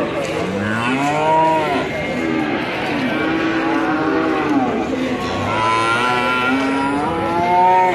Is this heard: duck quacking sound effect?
no